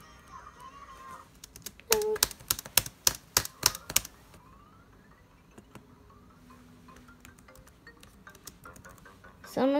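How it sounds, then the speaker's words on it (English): Someone types on a computer keyboard while playing Roblox: a quick burst of loud, close key clacks, then sparser scattered taps, with brief faint voice sounds at the start and end. "Can you guys even see me typing?"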